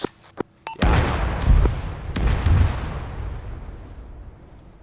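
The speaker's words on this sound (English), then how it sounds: "that to me sounds like cannon artillery" Cannon artillery fire in a video game, a heavy booming blast preceded by a couple of sharp cracks, followed by rumbling secondary thuds that slowly decay into a long fading tail.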